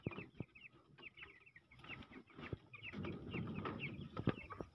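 Chicks and hens on a farm cluck and peep in a busy, irregular chorus, soft and fairly close, with bursts of rustling and occasional thumps underneath.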